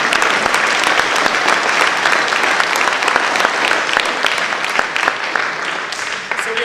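Students at Lenana School applaud together in a hall, a dense, steady wash of many hands clapping that fills the space and fades slightly toward the end.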